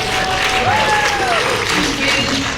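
Audience at an Everfree Northwest convention clapping, a steady wash of applause throughout with crowd murmur and voices mixed in.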